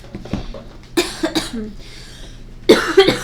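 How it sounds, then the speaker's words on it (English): Several sharp coughs, a cluster near the middle and another pair toward the end, close and fairly loud with quiet gaps between. "I'm so sorry if I cough, here and there"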